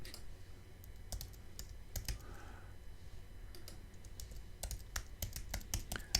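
Fingers type on a computer keyboard in quick irregular bursts of sharp clicks, close and fairly quiet over a low background hum, with no talking.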